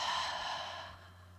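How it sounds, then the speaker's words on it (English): A long, steady exhale through the mouth during a seated chair yoga breathing exercise, a soft airy breath that slowly fades over more than a second, heard alone. "Again, deep breath in through the nose and long exhale through the mouth."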